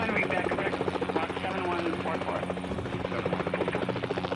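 Search-and-rescue helicopter lifting off in Helicopter Simulator 2014, with a steady rotor thrum and turbine whine that stays loud and continuous and pulses slightly, and a voice talking over it.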